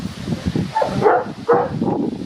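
A dog barks several times close by in quick, uneven bursts, with some rustling between the barks.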